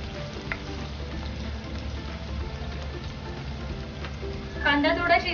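Ginger garlic paste with onion sizzling in a pan for prawn biryani, a steady close frying crackle that swells louder at the end as the mix is stirred.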